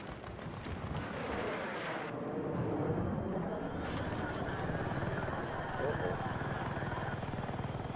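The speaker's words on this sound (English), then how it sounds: "Free chopper." A helicopter in the shooter game Battlefield 6 thrums steadily with rotor chop and loud engine roar amid explosions and gunfire, while a player talks over it.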